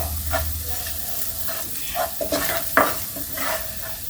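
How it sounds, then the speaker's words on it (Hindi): Spices and Kashmiri red chili fry in a pan for potato and onion curry, giving a close, steady sizzle broken by stirring scrapes and clinks. "इन सबको भून लेंगे मसाला साथ में।"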